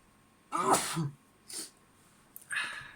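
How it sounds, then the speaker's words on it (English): A single sharp sneeze bursts out, followed by a short breathy sound and another brief exhale, fairly close and otherwise quiet. "I'm going to sneeze."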